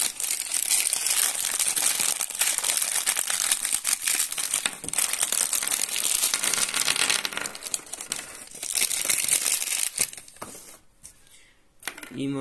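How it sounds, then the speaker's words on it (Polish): A paper bag is handled during an unboxing, giving close, busy crinkling and rustling that runs on steadily before thinning out near the end. "Tutaj widzimy woreczek, to nie jest taki streamowy, tylko papierowy"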